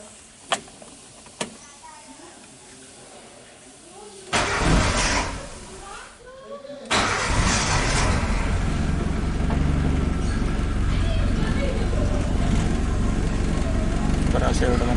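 Suzuki Katana engine cranked by its starter after the clutch is pressed, catching and settling into a loud, steady idle at very low RPM that continues to the end.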